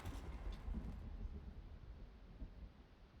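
Thunder from lightning in the video game Icarus rumbles low and faint, a rolling boom that fades gradually, with no talking.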